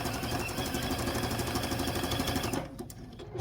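Sewing machine running a zigzag stitch on a quilt appliqué, a rapid steady mechanical chatter for most of the stretch, then stopping abruptly with a few light clicks near the end.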